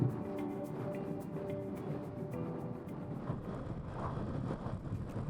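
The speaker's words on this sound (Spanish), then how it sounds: "Hay muchísimo viento" Strong wind roars and buffets the microphone continuously on a motorcycle ride about 60 km from Bahía Blanca, Argentina, a dense low rumble with gusting surges throughout.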